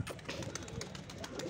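A pigeon coos softly on a rooftop in a low, rolling, steady murmur with no talking.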